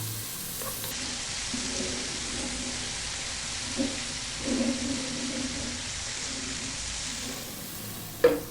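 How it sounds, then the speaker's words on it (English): Onion frying in a hot pan with a steady sizzle while being stirred, occasional scrapes and clinks of the utensil rising above the constant hiss, close and moderately loud. "we're going to add in our onion. And we're going to go for about 3 minutes. Keep it moving all the time now"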